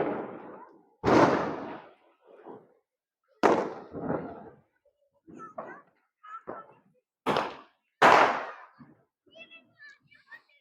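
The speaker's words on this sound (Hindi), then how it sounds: "बहुत ही जोर से पटाखा बज रहा है" Firecrackers burst during a Diwali celebration, about six loud, sharp bangs at irregular intervals, each with a short crackling tail and some fainter distant pops between them.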